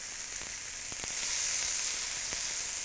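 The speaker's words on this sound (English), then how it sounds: "Asparagus will stop the garlic from cooking, so don't worry. Just get it nice and golden brown." Garlic and asparagus fry in a hot pan with a steady loud sizzle throughout, broken by a few faint clicks of stirring, and no talking.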